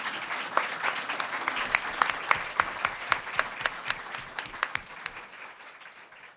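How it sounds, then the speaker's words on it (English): Audience applause for the panelists at a Writers' League of Texas event on personal essays, with distinct individual claps standing out from a steady patter of a modest crowd, gradually thinning out at the end, with no talking. "Please give our panelists a warm round of applause."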